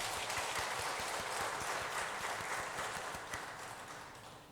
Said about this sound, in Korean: 우리 은평 찬양단 박수로 격려하겠습니다